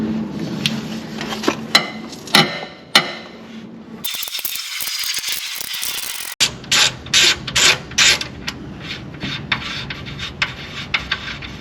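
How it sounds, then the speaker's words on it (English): A ratchet wrench fitted with a 22mm socket, used while installing an off-road stop cam kit, gives short bursts of rapid metallic clicking close up, with a louder scraping rattle in the middle. "this one again will need the 22mm socket"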